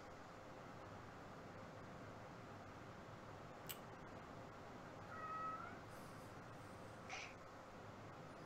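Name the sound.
cat meowing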